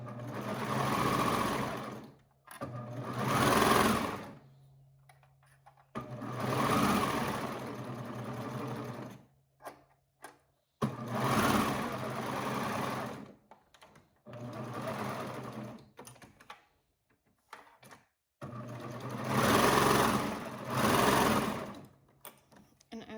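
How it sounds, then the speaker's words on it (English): A serger overlocking a raw fabric edge while making a cami dress, running in several long whirring bursts of a few seconds each, separated by short pauses, close and steady. "we're just serging over the raw edge"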